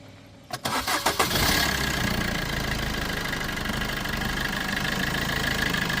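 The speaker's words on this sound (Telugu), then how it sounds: "ఒకసారి ఇంజిన్ అయితే స్టార్ట్ చేస్తున్నానండి" A Maruti Vitara Brezza diesel engine cranks with several quick churning bursts, catches and settles into a steady, loud rattling idle.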